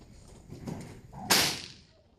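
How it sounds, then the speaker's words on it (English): A single sharp bullwhip crack snaps out loudly after a brief swish, standing alone with no talk over it. "Who here knows why a bullwhip cracks?"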